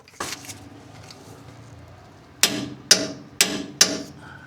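Four sharp, evenly spaced metallic clicks ring out close by as a torque wrench set to 115 tightens bolts on a Lexus GX460 suspension, preceded by an earlier softer clunk.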